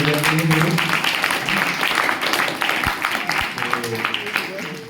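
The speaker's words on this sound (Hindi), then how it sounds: "ताली बजाएंगे" Church congregation clapping to welcome a guest at a Sunday service, steady applause mixed with a voice talking over it and some low hum.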